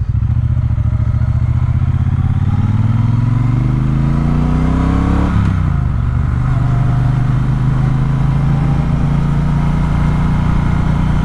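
A Triumph Speedmaster motorcycle pulls hard in second gear, its loud, close engine rising in pitch, dropping briefly as the throttle eases, then settling into a steady, rumbling drone under constant wind noise.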